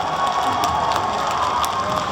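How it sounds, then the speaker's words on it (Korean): A festival stage crowd at the Andong Chajeon Janggun Noguk Gongju Festival cheers, shouts and applauds steadily as a dance group is introduced, a dense, continuous wash of noise with no pauses. "힘찬 박수와 함성으로 맞이해주시기 바라겠습니다"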